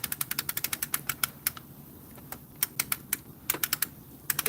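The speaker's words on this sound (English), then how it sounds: "the clicking you're going to hear is an umbrella that's going over the top" Rapid clicking of an umbrella being opened overhead beside a chimenea fire pit, crisp close clicks in quick irregular bursts with short pauses, over a low steady background rumble.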